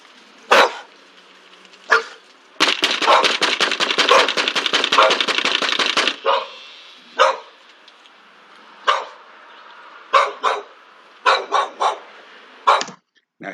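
Dog barking near a police officer in Hillsdale, Michigan: a rapid burst of loud, sharp barks, then scattered single and paired barks, close and loud.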